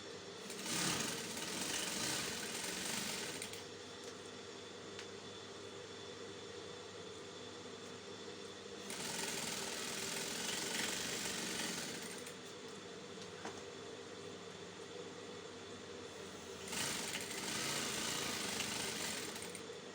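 A sewing machine stitches the front piece of an oversized kimono jacket in three quiet, rapid whirring runs separated by pauses, with a low steady hum in between.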